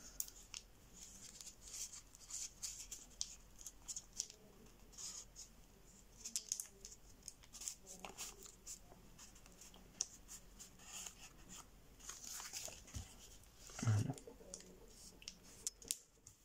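Soft, faint paper creasing and folding for an origami model, a series of quiet crisp crinkles and small taps spread unevenly through a hushed room.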